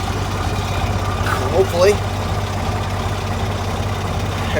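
A tractor engine running steadily in slow road gear on the way to a small hay field, a loud low rumble with someone talking briefly over it.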